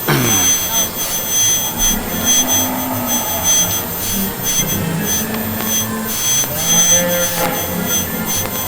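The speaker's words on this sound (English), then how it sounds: "Oh, a jet." A jet aircraft roars loud and near outside Freedom Hall West during a beef cattle show, a sustained heavy whine and rumble that holds for several seconds with only faint background sound.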